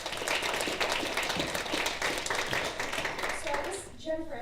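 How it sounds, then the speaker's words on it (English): Steady applause from a panel-session audience, a dense wash of clapping hands that fades out near the end. "Give me a round of applause to welcome them."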